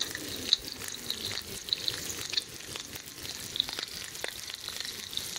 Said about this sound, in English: Start cooking the bear.